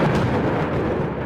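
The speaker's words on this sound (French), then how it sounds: "la foudre frappa l'arbre le plus majestueux des environs." Thunder strikes in a dense, loud rumble that fills the whole moment without pause, a deep rolling roar close by with no voices.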